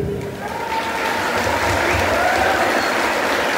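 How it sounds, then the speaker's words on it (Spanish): Sustained applause from an audience honoring mothers at a community event in Nanacamilpa, steady and dense throughout with a faint murmur of voices underneath. "Que sea el aplauso para ustedes."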